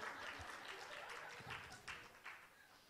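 Audience applause at a stand-up comedy show: a dense, fairly quiet wash of clapping that runs the whole time, with a few sharper bursts standing out near the end.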